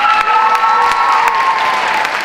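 A crowd at a high school senior awards ceremony applauds and cheers, with loud, steady clapping and some whoops throughout.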